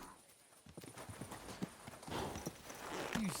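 Horse hooves clip-clop steadily at a walking pace during a night ride in Kingdom Come Deliverance 2, with even, moderately close footfalls and no voices.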